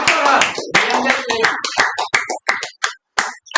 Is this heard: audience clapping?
yes